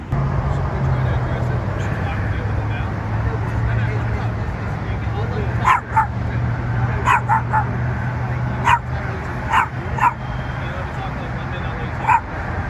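A puppy carried in a man's bag gives a run of short, sharp yips and barks with a few whimpers, under steady outdoor background hum and some nearby voices.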